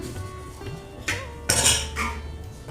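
A lid goes onto a cooking pot after the heat is turned off, with a few metallic clinks and scrapes and one sharper clatter near the middle, close by and with no talking.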